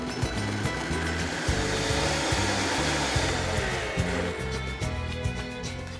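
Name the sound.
blender blending marinade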